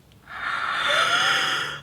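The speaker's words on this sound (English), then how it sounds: "Do the yawn." A person gives a long, drawn-out yawn, a breathy rising and falling exhale lasting over a second, close and clear with no talking.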